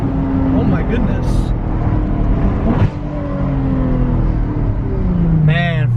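A Ferrari with a full straight-pipe exhaust revs hard and loud close by, its engine note rising and falling with a sharp blip midway, while people talk over it.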